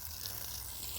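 Low-pressure water rinsing a K&N air filter for an OBS Chevy after a cleaner soak, a steady broadband hiss of spray running continuously and close for the whole second, with no talk.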